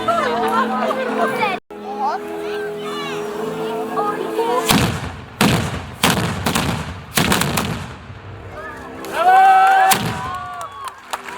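Several loud, booming cannon blasts from an artillery display at a knights' tournament at the royal castle in Łęczyca go off in an irregular series, with people talking over them before and between the shots.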